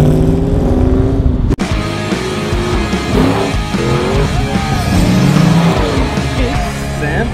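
A custom-built HQ car out on its first drive, its engine humming and shifting pitch as it accelerates and eases off, heard steadily from close by with a sharp knock early on.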